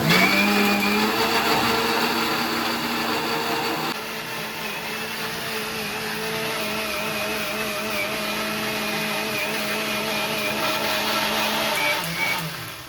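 A mixer grinder grinding masala runs loud and continuous with a high whirring motor whine, dropping in pitch partway through as the load changes and winding down at the end, close by with no talking.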